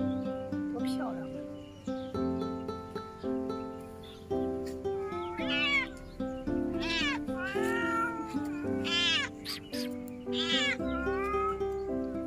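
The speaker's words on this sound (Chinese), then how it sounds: "你看那小猫" A stray kitten with a mottled, spotted face meows repeatedly in high, wavering calls, close by, mixed with people talking nearby throughout.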